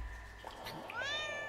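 A single drawn-out meow from an annoyed house cat, close and clear against a quiet room, rising then held for about a second.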